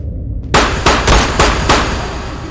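Shotgun blasts in the Ghost of Tabor video game: five sharp, loud reports fire in quick succession about a third of a second apart, with nobody speaking.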